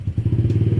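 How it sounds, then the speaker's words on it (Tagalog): A boat engine turns over and starts up, giving a low, rapid pulsing chug with a clattering rhythm that settles into a steady idle, close and loud with no talk. "papaandarin na po nila ang motor na kinalalagyan ng barkong aparador"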